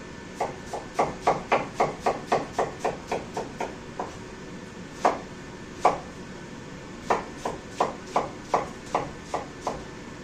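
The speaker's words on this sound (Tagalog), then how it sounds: "Tapos hiwain na lang natin ng hulyana din" Sharp knife slicing a large onion julienne on a cutting board, a run of quick, crisp chops in steady rhythm, pausing briefly, then resuming with another burst of close, distinct cuts.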